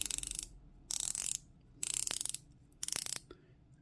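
An Accurist 7327 200m dive watch's 120-click bezel being turned in four short bursts of rapid, crisp ratcheting clicks, each burst separated by a brief pause, heard very close with no talking.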